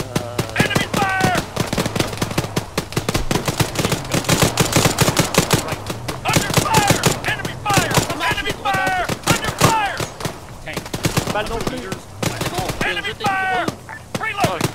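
Rapid bursts of automatic gunfire crackle throughout an Arma 3 firefight, dense and loud, with voices talking over the shooting and brief lulls between volleys.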